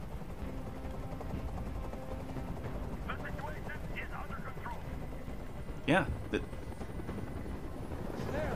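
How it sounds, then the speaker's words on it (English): A steady low helicopter rotor drone fills the background throughout, with a brief word spoken over it near the end. "I can't stand that noise anymore. Tell that helicopter to get out of here."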